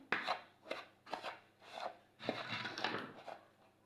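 Hands working and mixing msemen batter dough, a series of soft rhythmic slaps and squelching pushes, about seven strokes, close and fairly quiet with no talking.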